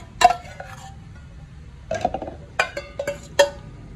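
Boiled tomatoes, chillies and garlic spooned into a jar, a few close, bright clinks and taps of utensil against glass and metal in short clusters, with quiet gaps between.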